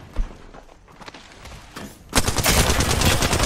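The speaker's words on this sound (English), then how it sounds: "They're firing on me" Enemy gunfire in Apex Legends, starting as scattered isolated shots and thuds before erupting into a loud, sustained rapid-fire barrage that carries on to the end.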